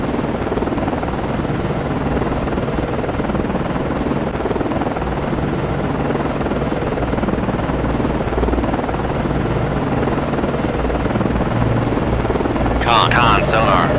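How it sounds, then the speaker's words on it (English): A naval helicopter lifting off a guided-missile cruiser, USS Valley Forge (CG 50), in the Cold Waters submarine game, a steady loud rotor and engine drone throughout with a short burst of voice-like sound near the end. "Con, FLYCO, launching aircraft."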